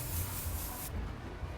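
Aerosol styling product sprays onto fine curly hair in one steady close hiss that cuts off partway through.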